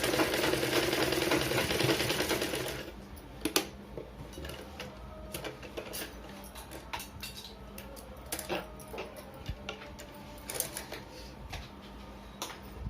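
Sewing machine stitching a back-open blouse, a dense whirring run at first that stops after a few seconds, followed by scattered light clicks and ticks at low level.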